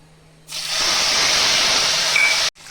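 Tomato paste hitting hot oil tempered with whole cumin in a wok while cooking Bengali tel koi, a sudden loud, steady hissing sizzle that starts abruptly and holds evenly for about two seconds before cutting off.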